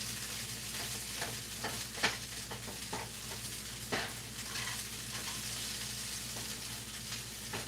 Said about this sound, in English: You can just hear that sizzle, and when you're making hash browns, you want to make sure that you add enough oil.